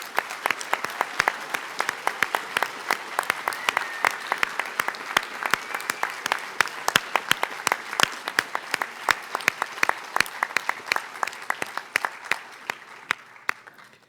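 An audience at a Milwaukee police merit awards ceremony gives award recipients a sustained round of applause, with sharp individual claps standing out from the group before thinning and fading near the end.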